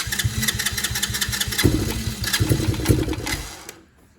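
A Tao Motors 125cc ATV engine runs with a rapid, rattling putter that swells and surges for several seconds before cutting out abruptly near the end, loud and close with no voices.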